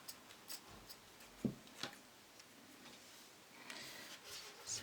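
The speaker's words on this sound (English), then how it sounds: "My scissors have decided to go blunt on me." Quiet, irregular snips and clicks of blunt scissors cutting, faint and close, with soft rustling between the cuts.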